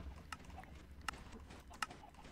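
Horse hooves clopping in Minecraft, a few sharp, spaced hoof strikes heard at moderate distance over a low background hum.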